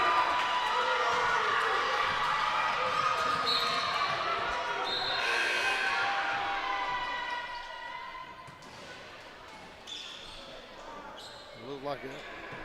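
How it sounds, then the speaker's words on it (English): A high school basketball crowd in a gym cheers and shouts loudly during a Carver at Harris County game, the noise fading somewhat toward the end, with sneaker squeaks and bounces mixed in. "this crowd has really started making some noise"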